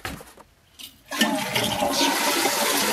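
A toilet flush sound effect: a brief lull, then a loud rushing gurgle of water surging and swirling through the bowl, sustained to the end.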